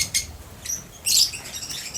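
Parrotlets kept in an aviary give brief, high, sharp chirps in quick bursts, close and fairly loud, with no talking.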